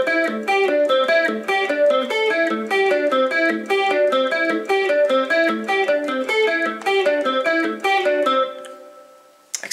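An electric guitar plays the intro as a fast, steady stream of bright picked notes in a repeating arpeggio pattern. The playing is close and continuous, then the last notes ring out and decay.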